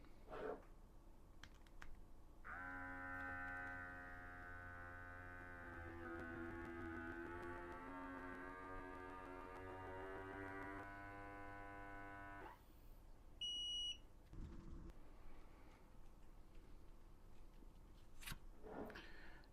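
An electric mason jar vacuum sealer runs with a steady motorized hum for about ten seconds, then stops with a short electronic beep and a few handling clicks.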